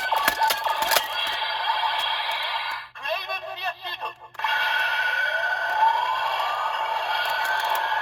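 Ultraman R/B Gyro toy playing its final attack sequence for Ultraman Rosso flame form: loud, steady electronic sound effects and music with a short dip in the middle, then a sustained charged tone.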